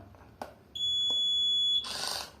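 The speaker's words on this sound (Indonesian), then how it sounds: "maka buzzer juga akan berbunyi ya" A steady high electronic beep from a buzzer on a smart infusion monitoring device sounds for about a second after a couple of faint clicks, followed by a brief hiss of noise.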